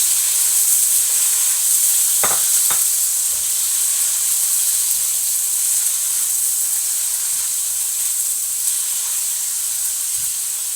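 Chicken cooks in a pan with a steady, loud hiss of steam and sizzle running throughout, broken by a couple of brief clinks early on, no talking.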